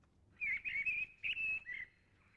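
Thrush song from outdoors heard from inside, a run of bright whistled phrases in quick succession over about a second and a half, moderately loud against a quiet background with no talking.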